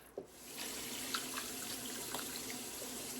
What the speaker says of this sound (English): Now I'm just going to cover them with water.